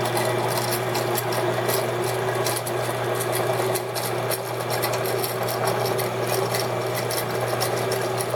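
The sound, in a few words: ENCO 7x12 horizontal band saw running, cutting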